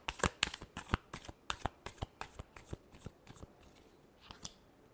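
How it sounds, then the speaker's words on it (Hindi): Tarot cards being shuffled in a quick series of crisp, close riffling snaps, loud at first and thinning toward the end, with no voices over them. "last shuffle"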